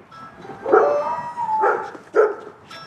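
Dogs at a house bark at canvassers walking up to the door in North Carolina, three loud close barks and yips with short gaps between them and no talk.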